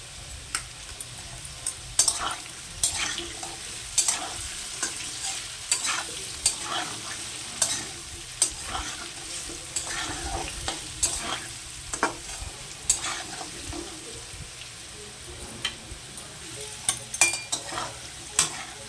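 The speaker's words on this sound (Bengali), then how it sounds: "আলুটা মোটামুটি ভাজা হয়ে গেছে" Potatoes fry in a pan with turmeric while a spoon scrapes and stirs them in steady, repeated strokes over a soft, continuous sizzle, close and fairly quiet, with no talking.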